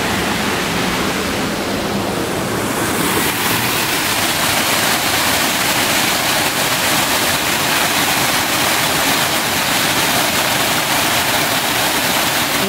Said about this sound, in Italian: Sono tre pesci che sputano acqua.